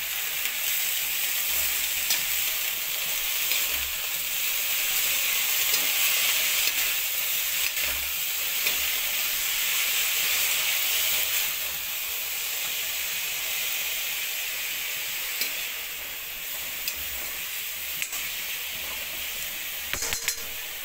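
Vegetables fry and are stirred in a pan, giving a steady, hissing sizzle that runs evenly and fairly quietly for about twenty seconds, with occasional soft knocks.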